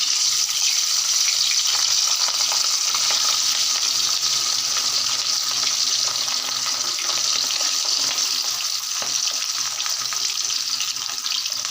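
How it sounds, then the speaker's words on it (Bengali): Steady, loud hissing sizzle of hilsa fish frying in hot oil, continuous throughout with faint crackles and no voices. "তেল গরম হয়ে গেছে এখন মাছগুলো দিয়ে দিলাম"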